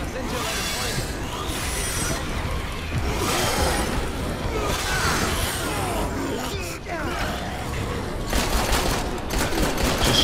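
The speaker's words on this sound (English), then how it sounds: "Shoot all of them now," Rapid volleys of gunfire from the video game Dead Rising 3 crackle in dense bursts over busy game effects, continuing steadily throughout at moderate level.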